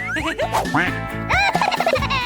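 A cartoonish duck quacking sound effect, several bright nasal quacks in quick succession with bouncy pitch swoops, loud and close with no talking over it.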